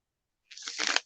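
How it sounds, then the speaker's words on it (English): Tarot cards riffled in a poker-style shuffle, a short close burst of papery flutter that starts quietly and builds to a dense crackle before stopping abruptly. "I'm going to do one more poker shuffle"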